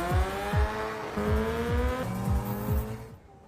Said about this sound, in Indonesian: Dan dia memacu motornya lebih kencang.